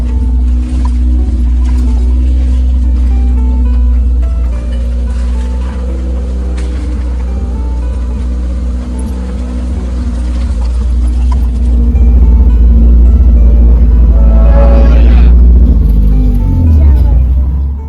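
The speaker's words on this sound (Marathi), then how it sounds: "त्यामुळं गाडीनं आणतोय दुसरी कुठली गाडी येत नाही जीपशिवाय" A jeep carrying a Ganesh idol home through a village drives along with its engine rumbling, a loud deep steady drone that swells louder toward the end, with talk and background noise over it.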